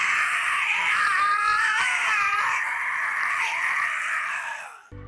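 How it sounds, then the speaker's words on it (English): The Freddy animatronic from a video game lets out a long, wavering synthetic scream as staff bots take him apart, loud and shrill with warbling pitch, fading out before a brief clunk at the end. "Freddy is taken apart by staff bots, during which he gives this scream."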